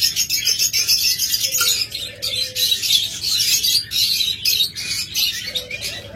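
A pair of green Fischer's lovebirds chirps in a busy, rapid run of high, twittering calls that continues nearly nonstop for several seconds over a low background hum.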